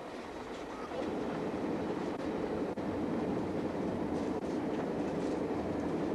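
A passenger train crossing Canada runs steadily on its rails through the Canadian Rockies, a continuous rumble with faint clickety-clack and an occasional sharp knock, heard from on board with no talking.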